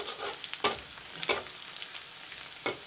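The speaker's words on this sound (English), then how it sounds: "Now put in the onions and the chilies, the cut up chilies. Let the onion turn brown." Chopped onions and cut green chilies fry in a pan for methi paratha, a bright steady sizzle with a few stirring scrapes, near and without voices.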